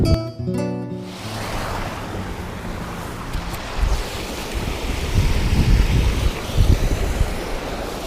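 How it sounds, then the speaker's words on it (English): River water flowing strongly after heavy rain rushes and roars steadily, mixed with gusty wind buffeting the microphone, loud and close with no voices. "Water's flowing pretty nice today."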